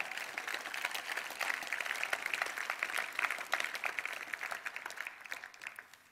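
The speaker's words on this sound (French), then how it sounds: "Est-ce qu'on peut applaudir Jésus-Christ le vainqueur" An audience at a Christian youth gathering applauds, a sustained even patter of many hands at moderate distance, fairly soft, continuing for several seconds before fading slightly at the end.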